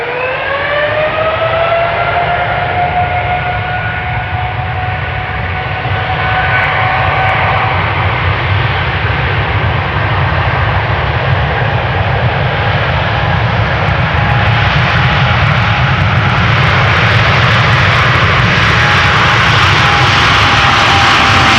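KLM 787-10 Dreamliner jet engines roaring on departure from Amsterdam Schiphol's Polderbaan, a loud sustained broadband rumble with rising whining engine tones, continuous and close, no talking.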